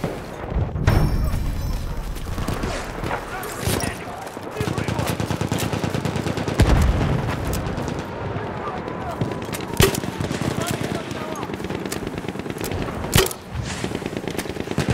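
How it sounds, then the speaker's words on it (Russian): Enemy machine gun fire in a Battlefield 1 battle rattles in long sustained bursts, mixed with distant booms and other gunshots, while voices call out under the din. "Вижу пулемет противника!"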